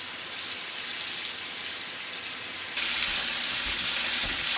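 Rabbit pieces fry in a pan with a steady, hissing sizzle that grows brighter and louder partway through, with occasional soft pops underneath and no voices.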